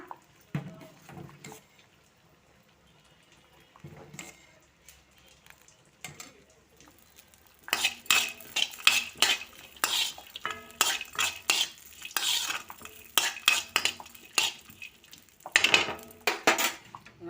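Cashews and raisins fry in ghee with a soft hiss that gives way to busy stirring: rapid metallic scraping and clinking of a spoon against the pan, loud and close, in bursts with brief pauses.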